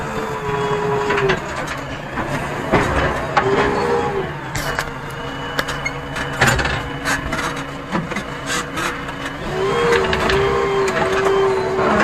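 A JCB 3DX backhoe loader levels half-inch gravel with its front bucket, giving a continuous loud diesel engine drone with hydraulic whines rising and falling, plus intermittent scraping and clanking of stone under the bucket.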